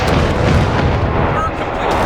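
Howitzer artillery fire in the real-time strategy game Company of Heroes 3, a dense, continuous rumble of booms and blasts filling the battlefield without a break.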